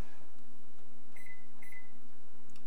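A kitchen timer is set during a Lenten cooking lesson: two short, thin electronic beeps in quick succession over a steady low hum of kitchen appliances.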